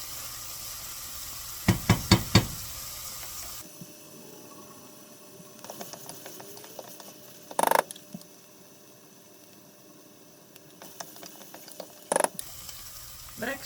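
Chopped onion sautés in a pan as the base for tomato soup, giving a soft sizzle for a few seconds before it quiets, with sharp spoon clicks and knocks against the pan scattered throughout.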